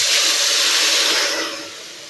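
Hot sugar syrup is poured into semolina frying in the pan for suji halwa, setting off a loud, steady, close sizzling hiss that eases slightly in its final moments.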